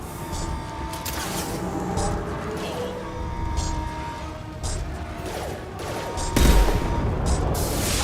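Sustained bursts of gunfire in the video game Mass Effect 2, dense and continuous with a heavier crash near the end, loud throughout with little talk.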